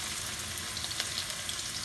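Scallions cut from green onions sizzle in about four tablespoons of hot oil in a pan, a loud, dense and constant frying hiss with faint crackles throughout.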